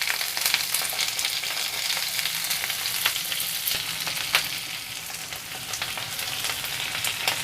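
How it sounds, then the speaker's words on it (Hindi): Potatoes and cauliflower for a mixed vegetable dish frying in a pan, a steady dense sizzle broken by frequent scraping and stirring clicks, close and moderately loud with no voices. "तो भी हल्का सा फ्राई करते जाएंगे।"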